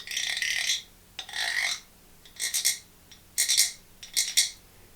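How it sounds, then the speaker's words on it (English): A güiro is scraped in five separate rasping bursts, a bright, ratchety sound somewhat like a frog or cricket, heard close and alone with short pauses between strokes. "Our last instrument is a Güiro, and it will be really helpful during our rainstorm because when you use it,"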